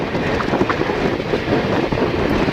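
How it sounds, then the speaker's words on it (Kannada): A train rolls across a railway bridge on the track toward Harihar, with a steady broadband rumble of wheels and cars running continuously and fairly close, and no voices. "ಇವಾಗ ಹರಿಹರಕ್ಕೂ ಹೋಗುತ್ತೆ ಇದು ಟ್ರೈನು, ಹರಿಹರಕ್ಕೂ ಹೋಗುತ್ತೆ."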